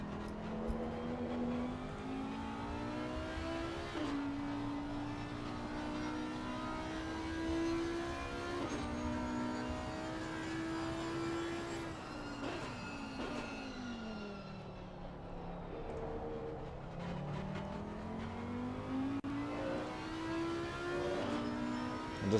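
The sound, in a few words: Audi race car engine, from the video game Assetto Corsa Competizione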